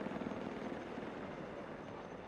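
Helicopter in a multiplayer shooter video game, a steady broadband rotor and engine roar that holds at an even level throughout, with no speech over it.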